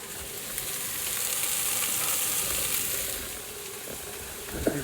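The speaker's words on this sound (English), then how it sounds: "we shall pop in the mince" Minced beef, fattier 20% mince with some minced steak, sizzles in a pan of softened onions, a steady close hiss with faint stirring scrapes and a small clink near the end.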